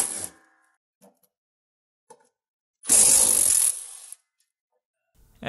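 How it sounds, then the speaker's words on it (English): Wrench work on the bolts holding a riding lawnmower deck spindle: a few faint metallic clicks and taps, then a loud steady burst of ratcheting or spinning for about a second, followed by more scattered clinks. "just remove these four bolts that hold the spindle on"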